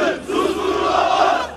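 Protesters gathered outside Bank Asya roar and chant slogans in a dense, continuous crowd mass, loud and close throughout the brief moment.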